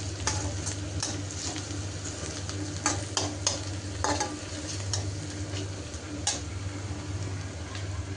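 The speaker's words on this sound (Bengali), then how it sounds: "আর এদিক দিয়ে মাঝে মাঝে আমি ভাজিটাও নেড়ে চেড়ে দিচ্ছি, ভাজিটা একটু ভাজা ভাজা হবে" Cauliflower and potato fry sizzling in a pan, with a spatula stirring it in scattered scraping taps over a constant close frying hiss and no voices.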